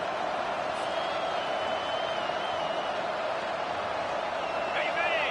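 A college football stadium crowd at a South Alabama at Arkansas State game in NCAA Football 25 keeps up a steady, dense roar throughout, with a few faint whistles and a swell of cheering near the end.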